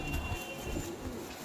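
Pigeons of a long desi breed coo softly in a loft among a dense bird group, low throaty calls overlapping in a steady murmur.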